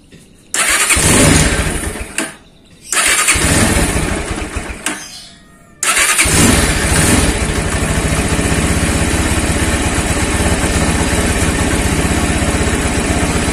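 Motorcycle engine being started after a carburetor adjustment, with two brief cranks that catch and cut out before it fires, then settles into a loud, steady close-up idle.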